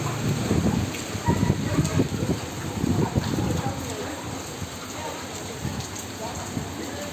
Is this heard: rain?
yes